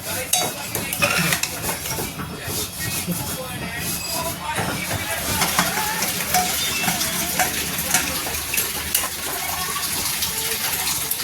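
A spoon scrapes and clatters steadily around a pot of vegetables on a gas stove while the food bubbles and sizzles underneath, a busy continuous kitchen noise.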